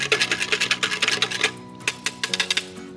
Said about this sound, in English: Mix the egg and the milk together.